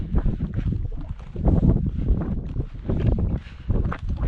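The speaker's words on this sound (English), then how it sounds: "It's getting a bit windier now" Wind buffets the microphone near the summit of a Munro on the Beinn a' Ghlo traverse in early autumn, loud rumbling gusts that swell and fade, with no voice.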